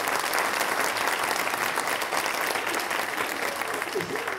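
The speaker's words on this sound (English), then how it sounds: "So a big round of applause, please," A university audience gives steady, loud applause for Cardiff University's vice chancellor, dense clapping from many hands throughout with no break, fairly close and filling the room.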